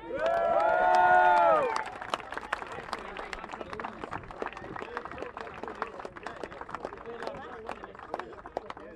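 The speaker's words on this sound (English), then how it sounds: "Get a good round of applause there." A crowd claps and cheers for the podium finishers at a race-series prize giving. A loud horn or whistle-like tone blares at the start, then scattered applause and chatter carry on steadily.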